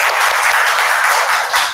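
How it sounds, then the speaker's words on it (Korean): Audience applause at a graduation exhibition special lecture, a dense, steady wash of many hands clapping close by for nearly two seconds, with no talk over it. "다시 한번 박수 좀 부탁드리겠습니다."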